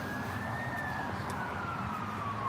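An ambulance siren wails at a distance in a long, slow, wavering tone that rises and falls, half-buried under a steady rumble of road traffic.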